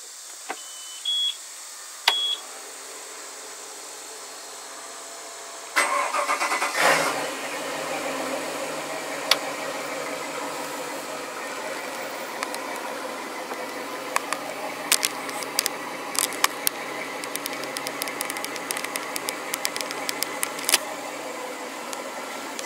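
A few electronic beeps, then the engine of a 2002 Four Winns Funship 264 deck boat cranks and catches, settling into a steady idle with occasional clicks and knocks.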